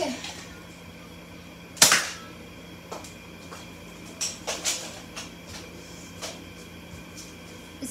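A Nerf gun fires a flat tip foam dart with one sharp, loud snap, followed by several quieter plastic clicks and clacks of handling.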